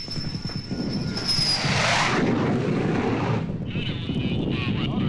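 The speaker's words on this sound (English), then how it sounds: "The last aircraft of the day's missions returns to its carrier." Military jet aircraft returning to an aircraft carrier during the Vietnam War, a loud broad roar that swells and holds steady with a high whine, continuous and close.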